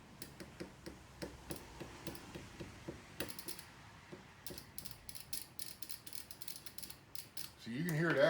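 A fuel injector cleaning tool activates with faint, steady mechanical ticking clicks at a regular rhythm, ending in a brief rising hiss.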